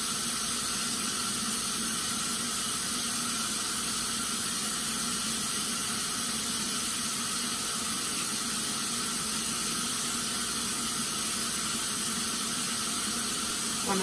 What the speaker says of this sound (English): Gonna turn the faucet off.